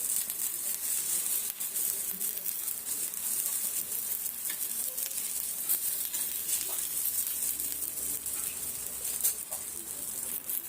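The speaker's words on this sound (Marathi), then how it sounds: "थोडं शेकलं की आणि परत त्याला आपल्याला तेल लावायचं आणि पलटी मारून घ्यायचं" Jowar flour thalipeeth roasting in oil on a hot pan gives a steady, close sizzle and fry crackle that carries evenly through the whole stretch, with no talking over it.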